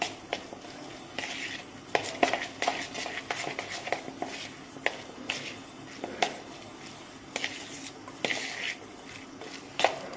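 Pizza sandwich filling is mixed in a bowl with a spoon. Soft, repeated squishing and stirring sounds are broken by light clicks of the spoon against the bowl, steady and close-up, with no talk.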